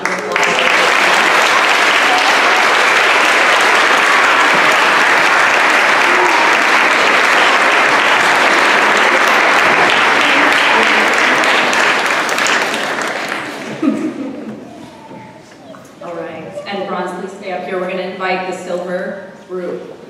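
Sustained, loud audience applause for bronze award recipients at a school promotion ceremony lasts about thirteen seconds, then dies away as a speaker begins talking.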